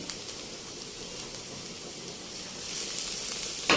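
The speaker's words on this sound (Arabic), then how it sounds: "وهقلب البصله لحد ما لونها يتغير، يا دوب تدبل معايا، مش عايزاها تستوي في السمنه دلوقتي" Chopped onion frying in ghee while being stirred, giving a steady, close hiss of sizzling that swells slightly louder near the end.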